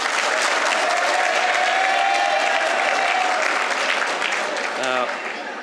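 Students applauding and cheering for their school at a Pro Football Hall of Fame event, a loud, sustained wall of clapping with a high whistle or shout running through it, easing slightly near the end.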